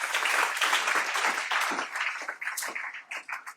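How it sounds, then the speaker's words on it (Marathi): Audience applause welcoming a cycling and swimming enthusiast teacher at an event, many hands clapping at first and then thinning into scattered, uneven claps that fade out. "जोरदार टाळ्या."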